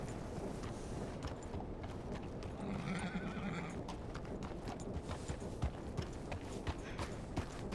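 Horse hooves clip-clop steadily in Red Dead Redemption 2, mixed with occasional whinnies and snorts, near and moderately loud over a busy game ambience.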